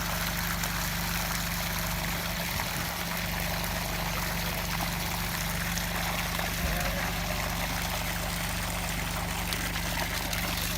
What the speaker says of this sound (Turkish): Evet suyumuz şarıl şarıl çıkmaya başladı